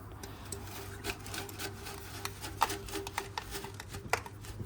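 Loose rust sediment shaken inside a motorcycle gas tank gives a dry, gritty rattling and scraping with irregular bursts, close and moderately loud, with no speech.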